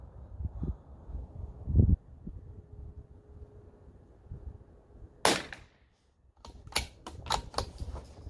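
Several sharp .22lr rifle shots from a Christensen Arms Ranger crack outdoors in quick succession near the end, following a stretch of quiet wind-buffeted ambience and a few soft handling knocks.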